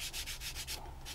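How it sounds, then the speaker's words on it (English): A sanding stick rubs back and forth over a wooden part for a 1/84 scale HMS Victory model, giving about eight steady, close rasping strokes in an even rhythm with no talk. "You want to just sort of let the sanding stick do all the work"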